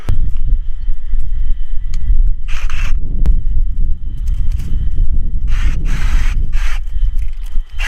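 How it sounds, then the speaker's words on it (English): A Sawzall reciprocating saw cuts down a structure near a concrete job, giving a continuous loud, gritty rasp with brighter, harsher surges as the blade bites, and it runs steadily for the whole stretch. "I got the Sawzall, and I want to make quick work of it"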